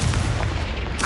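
A Confringo spell blast in Hogwarts Legacy, a dense, loud explosive roar sustained for about a second with heavy low rumble.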